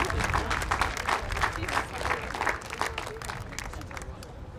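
An audience at a school moving-on ceremony for eighth graders applauds in a steady, moderately distant burst that tapers off toward the end, with crowd chatter and voices beneath it.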